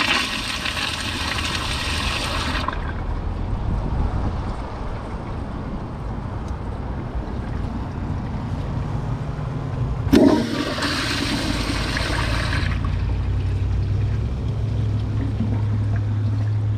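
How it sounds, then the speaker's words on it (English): Two Kohler Pressure Lite 1.6-gallon toilets, a 2005 Highline and a 2025 model, flush one after the other with loud pressurized whooshes, a sharp bang at the start of the second flush, and a lower refill rumble afterward. "we're gonna both give it a flush and see which one you like better"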